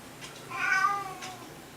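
A single drawn-out cat meow, fairly clear against a quiet background, with soft faint noises before and after.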